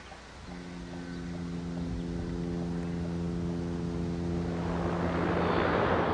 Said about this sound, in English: The combination of 32 propeller blades and four extremely powerful turboprop engines made the Bear one of the loudest aircraft in the history of aviation.